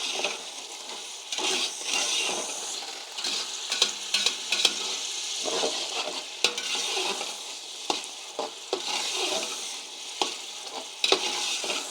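Matar pulao with peas fries over a high flame, a loud, sustained sizzle interrupted by irregular scraping and stirring knocks of a spoon against the pot, close up and without speech.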